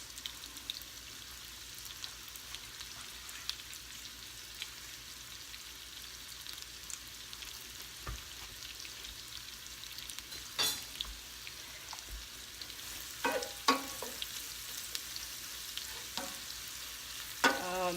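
Garlic and garlic scapes sizzle gently in a frying pan, a steady soft crackle broken by a few louder pops and stirring scrapes near the end.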